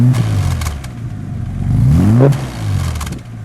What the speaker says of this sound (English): Give me a little rev, Barry.